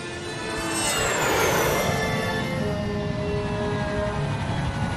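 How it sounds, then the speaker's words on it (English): A jet engine in the video game Psychonauts roars loudly and steadily, a broad rushing whoosh with a sweeping pitch that rises early and then settles into a sustained drone, with no speech. "Guess we're taking the jet."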